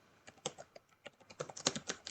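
Keys clatter on a computer keyboard in a quick irregular run of clicks at close range, alone with no voices.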